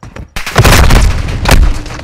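A planted bomb detonates in a video game, producing a loud, close, booming blast that rolls on with rumbling after a brief moment of quiet.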